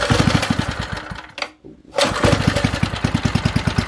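A Briggs and Stratton small engine, pull-started with choke on and throttle set low, runs with a fast, even putter close to the microphone, briefly cuts out and sputters, then picks back up at the same steady rhythm.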